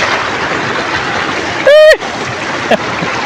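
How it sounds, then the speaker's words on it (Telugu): Water flowing over small waterfalls makes a constant, even hiss, interrupted once by a short high-pitched tonal squeal and a brief click near the end. "చిన్న చిన్న పడి సెలయ్యారు చిన్న చిన్న వాటర్ ఫాల్స్ అనమాట చూడండి ఎట్టుందో"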